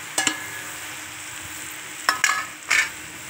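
Washed, drained leafy vegetables drop into a pan of chilies already fried in oil, giving a few short sizzling bursts and clatters, near and fairly soft, with quiet pauses between.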